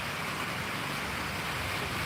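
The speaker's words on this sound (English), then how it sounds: "And it's raining." Steady broadband hiss of rain falling at a coastal spot in Panglao, Bohol, a constant wash with no distinct drops and no voices.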